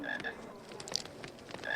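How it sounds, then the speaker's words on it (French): A frog croaks in the Harry Potter Philosopher's Stone video game, a few close repeated throaty calls standing out over a soft ambient game background. "Donc il y a une grenouille."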